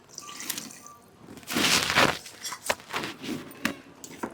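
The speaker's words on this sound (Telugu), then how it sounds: "మనం వాటర్ పోసేసుకుందాం" Water poured from a vessel into a pan of cashew paneer masala curry, a splashing gush that swells midway and trails off into a few separate drips and splashes, close by with no talk.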